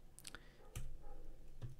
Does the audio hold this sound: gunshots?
no